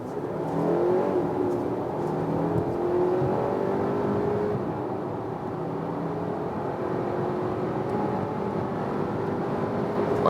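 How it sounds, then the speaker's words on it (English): An Audi Q5 Sportback PHEV plug-in hybrid accelerating hard from 50 km/h, a steady loud drone of engine and road noise heard from inside the cabin with a rising engine tone throughout. "with the Audi Q5 Sportback PHEV from 50 kilometers an hour. Acceleration, let's go."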